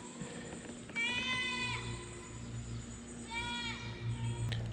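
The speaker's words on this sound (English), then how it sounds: "All right, the goats are welcoming me." Goats at a fishing pond bleat twice, close and clear, over a low steady background hum.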